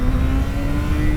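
A 2006 Yamaha FZ-6S 600cc motorcycle engine drones at a high, sustained pitch, loud and close, revving hard under acceleration.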